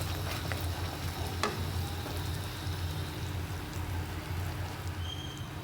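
Homemade condensed milk simmering in a pan on a low flame, giving a steady soft bubbling sizzle with faint occasional pops, close and continuous with no talking.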